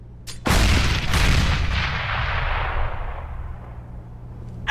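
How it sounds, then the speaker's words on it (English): A grenade blast in Counter-Strike, a sharp loud boom that rolls into a long decaying rumble over a few seconds, ending with another sharp hit. "Throwing a grenade."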